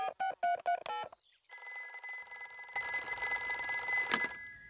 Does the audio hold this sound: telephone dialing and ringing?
yes